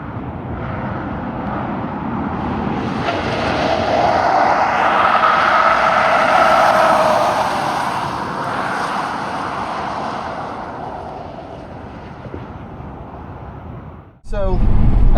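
A Tesla Model X pulls hard at full power out of a corner on a race track, a loud sustained whine-and-roar of motor and wind that swells and holds, then cuts off abruptly near the end.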